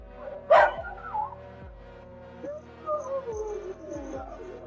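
Dogs bark in the distance at night along a dark road, several short sharp barks scattered through the clip, fairly faint and carried over a low steady background hum.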